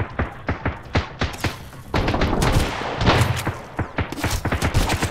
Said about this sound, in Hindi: ऑटोमेटिक गन चला रहे भाई ये लोग